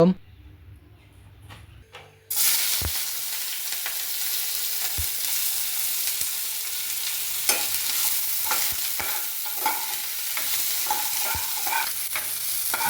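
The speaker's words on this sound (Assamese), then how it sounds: "এইফালে কেৰাহী তেল দি পেলাই গোটেইখিনি শাক পাচলি ভাজি ল'ম" Chopped onion, carrot, chili, ginger and garlic hit hot oil in a kadai for Chinese-style momo filling. After a quiet start, a loud sizzle bursts in and carries on under repeated scraping knocks of a stirring spoon.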